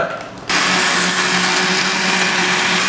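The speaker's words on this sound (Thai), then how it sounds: "พวกเครื่องปั่นนี้เงียบและใช้ดีเหมือนกันนะฮะ" An electric kitchen blender kicks on abruptly after a short quiet moment and runs at a steady, loud, close whir with a constant motor hum.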